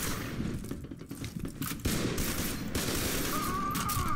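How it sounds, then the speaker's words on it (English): Nail gun firing in the video game F.E.A.R. 2, a dense rapid stream of sharp mechanical shots blending into a continuous loud rattle with rumbling game noise underneath, no voices. "Oh, yes, it's the fucking nail gun."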